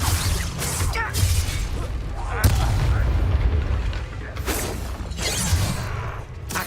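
Hogwarts Legacy combat in which an Incendio fire spell is cast, giving a burst of roaring, crackling blasts and booms with a voice shouting the spell's name amid the fight.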